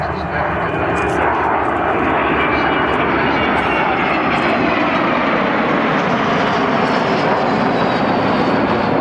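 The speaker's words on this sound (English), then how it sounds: "she'll put the power on those four Rolls-Royce Bristol Olympus engines" The four Rolls-Royce Bristol Olympus engines of an aircraft build to a loud, continuous roar at the Great Yorkshire Airshow at Church Fenton. The sound is broad and steady throughout, with speech from an announcer mixed in over it.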